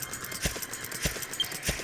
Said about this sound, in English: my horse isn't accustomed to being ridden.